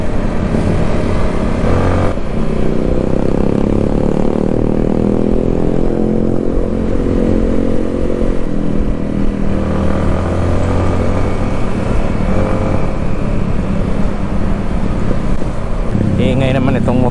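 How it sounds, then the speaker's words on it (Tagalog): A loud, steady motorcycle engine drones on the road throughout, close and unbroken, with shifting pitch as it travels and general road noise mixed in. "Ingay naman itong motor na to."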